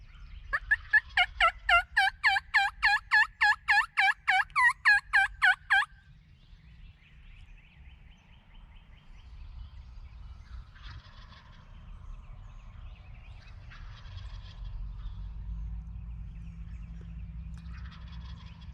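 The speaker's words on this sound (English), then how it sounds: "Every time them birds on the ridge gobble, these guys gobble." A loud, close wild turkey gobble rolls out in a rapid rattling burst, followed by fainter distant gobbles answering from birds on a ridge farther away, on a morning outdoors.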